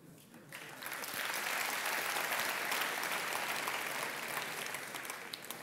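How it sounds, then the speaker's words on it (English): Sustained audience applause at a conference keynote on CSS conic gradients, a dense wash of clapping that swells after the first half second and holds steady before easing slightly at the end. "That applause was for conic gradients."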